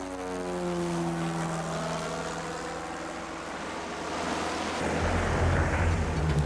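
An aircraft engine on a banner towing plane runs at full throttle, a loud, steady droning roar whose tone sweeps and rises, with a deeper surge toward the end and no talking.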